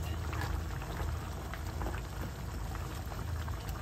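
Snails simmer in coconut milk in a pot for ginataang kuhol, a dense, steady bubbling and popping boil heard close up with no talking.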